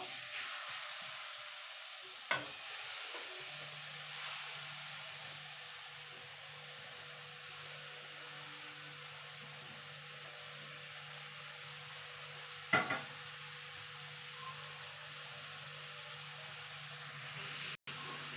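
Grated carrot dropped into hot ghee in a pan for carrot halwa, a soft continuous sizzle and hiss with a few brief clatters of stirring, quiet and steady.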